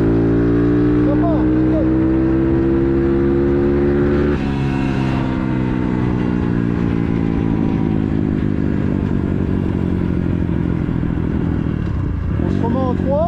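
Dirt bike engine, a CRZ 140 or Bastos MXF 150 on test, revs hard and loud throughout, with the pitch climbing, dropping, then climbing again; someone speaks briefly over it.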